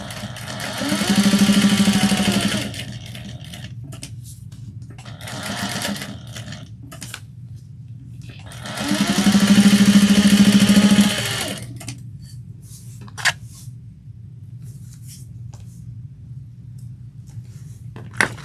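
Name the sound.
sewing machine stitching tote bag edges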